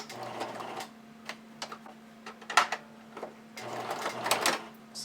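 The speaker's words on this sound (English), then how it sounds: "still using a zigzag stitch" A sewing machine runs a zigzag stitch attaching elastic to a garment edge, in short quick bursts of rattling needle strokes with pauses between, close and moderately quiet.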